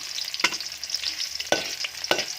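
Red onion sautéing in a hot pan for Filipino adobong tahong (mussel adobo), a steady close sizzle with three sharp stirring scrapes spread across the moment.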